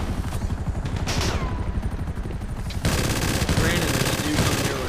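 Sustained minigun fire rattles in GTA V, a dense, continuous mechanical roar of rapid shots that grows heavier and louder midway, with players talking over it.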